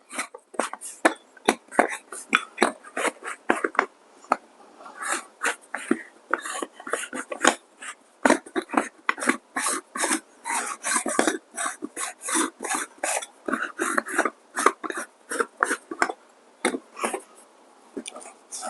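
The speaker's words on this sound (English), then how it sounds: "and then let's test the grinder again" A DF64 coffee grinder runs after its upper burr has been reinstalled, giving a steady stream of dense rasping, crackling bursts that are loud and close throughout.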